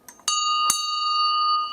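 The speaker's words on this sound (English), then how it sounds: "we'll end this session with a little ring of the bell," An old school bell at Summerhill is rung twice, two sharp metallic strikes close together, each leaving a bright, sustained ringing tone that hangs on and slowly fades.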